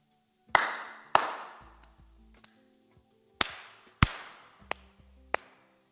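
Sharp hand claps beat out a rhythm, the first few strong and ringing with decay, the rest lighter and quicker, with a second loud group following a pause; no voices.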